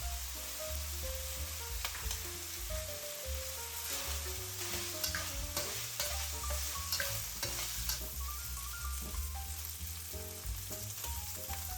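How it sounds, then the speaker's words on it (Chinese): Diced pork stir-frying in a wok with minced garlic and ginger, a constant dense sizzle with frequent spatula scrapes and clinks, close up and continuous, with a low hum beneath and no speech. "和肉丁一块炒香。"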